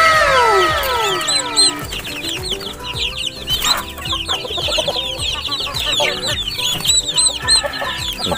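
Chickens cluck and chatter continuously, several birds close by, with a few brief squawks rising over the steady flock noise, on a rural backyard farm where chickens are kept together with turkeys.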